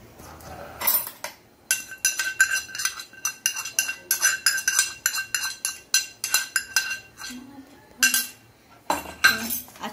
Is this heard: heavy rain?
no